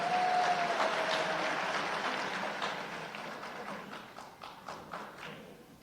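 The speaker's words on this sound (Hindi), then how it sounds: "जोरदार तालियों से स्वागत करें" Applause from a crowd at a political event in Rajasthan, a soft, distant wash that fades, then a few scattered louder claps near the end.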